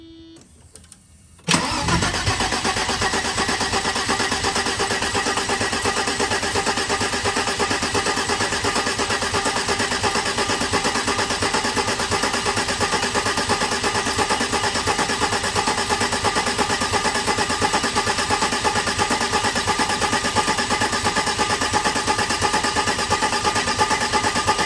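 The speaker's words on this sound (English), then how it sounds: "we're gonna turn the engine over to drive the oil out through the line" A Mercedes-Benz M103 turbo engine turns over and runs steadily after a brief quiet start, a loud continuous engine drone holding for over twenty seconds with no talk.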